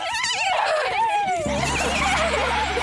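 A person imitates a horse's whinny with a long, wavering, high-pitched call, loud and close, followed by background music.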